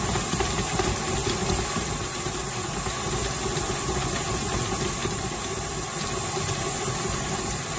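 An electric stand mixer beats butter at speed 4, giving a steady, loud motor whir with a hissing, grinding texture that runs continuously without pause and with no voices.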